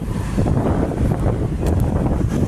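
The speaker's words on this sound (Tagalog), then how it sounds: "ang lakas ng hangin" Steady, loud wind roaring and buffeting across the microphone on a roadside in Bacolor, Pampanga, a continuous low rumble with no pauses.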